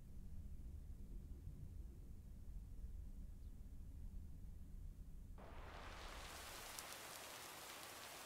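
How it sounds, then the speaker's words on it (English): Steady rain falling outdoors at a lake on a wet day, a broad hiss that swells sharply louder partway through and continues as a dense, close wash of noise with no talking. "And it's raining."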